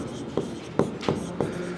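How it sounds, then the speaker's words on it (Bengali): An equation is handwritten with pen on paper, giving a few short scratchy strokes and taps at close range in a quiet room. "তো লিখি 1 নং"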